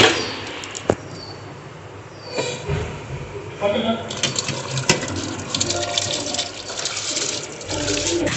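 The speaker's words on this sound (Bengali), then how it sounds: "এবার চালটা দিয়ে দেবো।" Rice is tipped into a pot of hot water on a home stove, making a soft rattling pour and splashing, with a clang of metal partway through, all close and fairly quiet.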